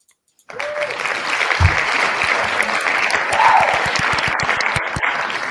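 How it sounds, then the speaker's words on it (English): Applause from a live podcast audience for a birthday, a dense steady wash of clapping that starts abruptly and holds close and loud throughout, with a few sharper claps standing out. "Let's have a round of applause for Josh's birthday, Finn."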